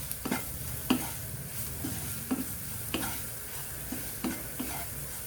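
Chicken keema masala being sautéed in a pan with turmeric, coriander powder and chicken masala, a steady sizzle broken by a spoon scraping and tapping the pan at irregular intervals.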